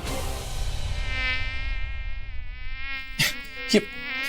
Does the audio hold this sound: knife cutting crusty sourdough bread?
no